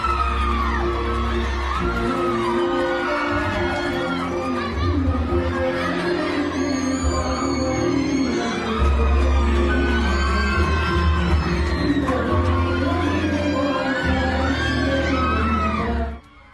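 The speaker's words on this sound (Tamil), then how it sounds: "துணை மேயர் நடனமாடிய போது நிகழ்ச்சியில் பங்கேற்றவர்கள் கைத்தட்டி உற்சாகப்படுத்தினர்" An audience at a college event in Udhagai claps, cheers and shouts as the deputy mayor dances with female college students; the lively crowd noise runs steadily throughout, swelling in places.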